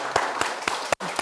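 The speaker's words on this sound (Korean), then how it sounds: "박수 한번." Church audience applauding with a handful of evenly spaced, distinct claps, fairly sparse and close, briefly cut off near the end.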